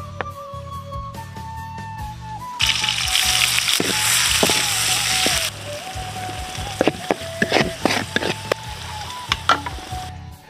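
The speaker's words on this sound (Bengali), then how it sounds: "এই হচ্ছে আমি তেল দিচ্ছি কড়াই" Curry cooks in hot oil in a wok, giving a loud, sustained sizzle with scattered clinks and scraping stirs, while a steady low hum runs underneath throughout.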